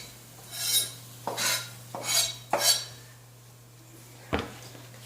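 A utensil scrapes food off a pan while an omelet is being cooked, making four rasping metal strokes close up in an uneven rhythm, then a single sharp knock against the pan, over a low hum.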